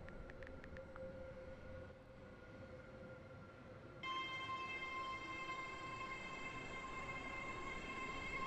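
A train pulls into a station platform in the Stepford County Railway game, with a steady rumbling hum and high tonal whine that grows louder and richer partway through, a few short chime-like ticks early on, and no talk.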